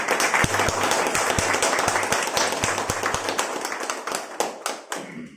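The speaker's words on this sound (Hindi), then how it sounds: "जोरदार तालियां बोलो।" Audience clapping at a gathering in a Hindi reading room honoring a national poet: a loud burst of many hands that thins into scattered, distinct claps and fades out near the end.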